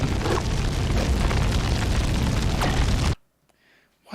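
A cannon in the video game Braid fires with a loud, sustained booming blast that fills about three seconds, then cuts off abruptly into near silence.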